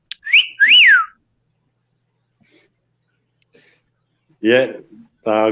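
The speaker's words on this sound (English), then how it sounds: "my budgie is she's just started to figure out the wolf whistle" An English budgie produces a clear two-part rising-and-falling wolf whistle up close, followed by silence and then a person talking briefly.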